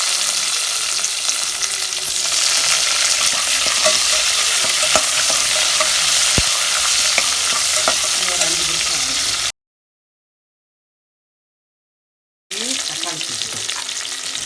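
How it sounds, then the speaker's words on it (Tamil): Onions frying loudly in a pan and stirred, a dense constant sizzle with scraping, cut by a few seconds of silence before the frying resumes. "இப்போ வெங்காயம் சேர்த்துக்கலாம்"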